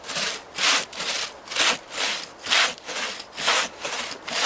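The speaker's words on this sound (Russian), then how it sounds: "работая лучковкой и складной пилкой Фискарс" A bow saw or Fiskars folding saw cuts through a rotten log in steady back-and-forth strokes, about five rasping bursts with brief pauses between them, close and alone with no talking.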